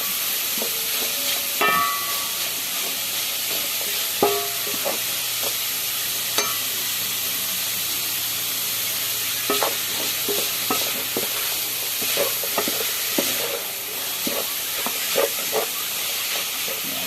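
A boneless milkfish (bangus) mixture is stirred by hand, giving soft scraping and clinking strokes at an irregular pace over a steady hiss, near and moderately loud, with no talking.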